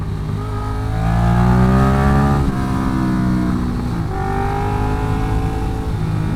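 Ducati Diavel motorcycle in sport mode accelerating hard, a loud, close engine whose pitch climbs steadily, drops briefly at a gear change, then rises again through a continuous roar.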